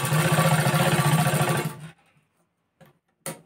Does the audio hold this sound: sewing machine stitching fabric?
yes